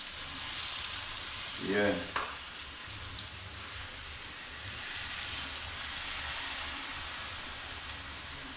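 Pumpkin fritters frying in a pan with oil for a Jamaican-style breakfast, a constant crackling sizzle throughout with a brief scraping stir and a short spoken word near the start.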